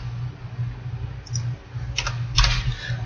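A few computer keyboard keystrokes sound over a low electrical hum, sparse close clicks grouped near the end.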